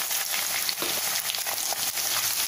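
Chopped onion, green chilli and curry leaves fry in a pan with popping mustard seeds, giving a loud, steady, close sizzle with scattered crackles and light stirring scrapes throughout.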